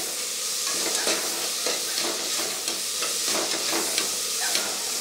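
Onions, curry leaves and green chillies sauté in a pan with a dense, even sizzle and faint stirring scrapes, heard close and alone.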